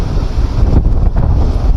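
Strong wind in a village field beside papaya trees rumbles and roars loudly across the microphone, a steady, close buffeting with no pauses.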